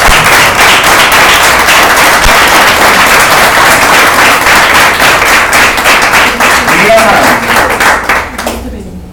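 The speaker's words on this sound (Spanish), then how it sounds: "¿Puedes dar un aplauso a Dios?" A church congregation gives loud, dense applause, a sustained roar of many hands clapping close and full for several seconds before fading at the end.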